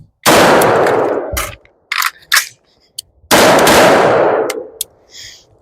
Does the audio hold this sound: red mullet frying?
no